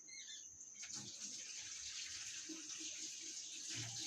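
A tap runs steadily for hand washing, a faint continuous hiss of water from nearby, with a few soft clunks and low background sounds underneath.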